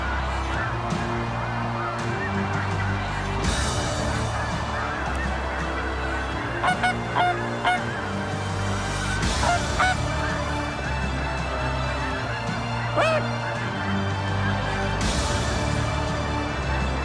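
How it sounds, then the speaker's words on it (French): A large flock of snow geese honking continuously during a spring goose hunt in Quebec, dense overlapping calls close by with louder bursts rising above the steady chorus. "Les oies s'activent."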